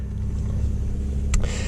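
Porsche 992 Turbo S engine idling just after starting, a steady deep low rumble close by with a brief click near the end, no talk.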